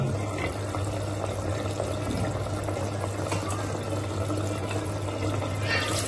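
Water runs steadily into a clay pot of chicken curry to make gravy, a continuous splashing, gurgling stream heard close up for several seconds with no voices.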